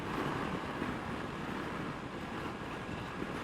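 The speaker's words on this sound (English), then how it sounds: "Oh, a little windy." Steady wind buffets the microphone outdoors beside a railway line near the coast on a Honda CRF300 Rally ride, a constant broad rushing roar with no talking.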